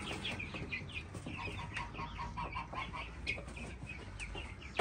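Week-old chicks and hens in a village garden cluck and cheep steadily and close by, with a busy, overlapping chatter of short calls and no talking.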